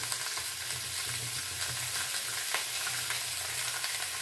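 Garlic cloves sizzling and frying in a pan, a steady bright crackle with occasional stirring, close and alone without voices.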